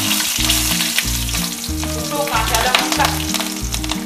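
Nigella seeds and two green chillies sizzle vigorously in hot oil, a loud, dense crackle and spitting that runs the whole time, with a low repeating hum underneath.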